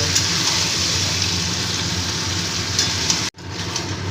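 Mutton sizzles as it is stir-fried in a pan for kosha, a close, steady frying hiss that drops out abruptly for a moment near the end before resuming.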